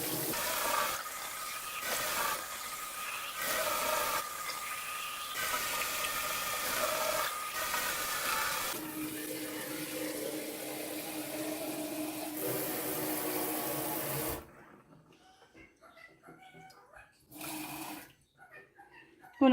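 Water running and sloshing over bird seeds being rinsed for sprouting, a steady noisy wash for about fourteen seconds that cuts off, followed by quieter scattered splashes and drips.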